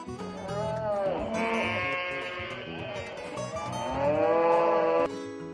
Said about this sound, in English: It says moo moo.